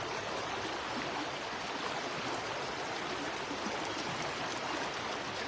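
River water flows in a steady, dense rush, a continuous close wash of sound with no pauses or voices.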